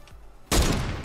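A single sniper rifle shot in the Fortnite video game, a sudden loud crack after a quiet moment, followed by a dense rumbling decay that lingers for over half a second.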